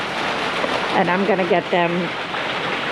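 Rain falls outdoors in a steady, moderate hiss around a farm, with someone speaking briefly over it in the middle.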